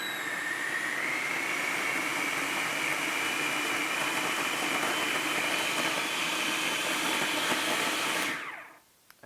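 A blender pulses a chickpea salad with lemon juice, a loud steady whirring roar that runs continuously for about eight seconds, then cuts off abruptly into near silence.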